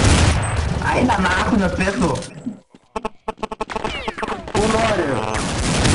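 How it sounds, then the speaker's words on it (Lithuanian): Bursts of video game gunfire on a game server, a quick run of sharp cracks in the middle of the clip, with people talking before and after it. "šaudo mane per sienų čia kažkas"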